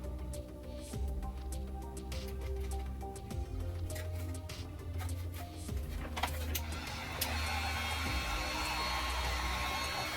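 Steady blowing roar of a heat tool warming a Tusken Raider mask face plate to smooth it, a continuous close hum with small clicks and taps, rising to a brighter hiss near the end.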